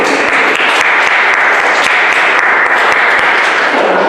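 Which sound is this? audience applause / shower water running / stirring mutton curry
audience applause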